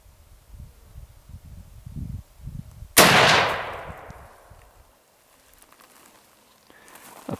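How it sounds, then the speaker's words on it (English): An old Marlin 30-30 lever-action rifle fires a single loud shot on an outdoor range, a sharp crack that rings out and decays over about two seconds, preceded by low rumbling handling noise. "pretty nice sounding gun,"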